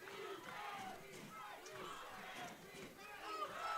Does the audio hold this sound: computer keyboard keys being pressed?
no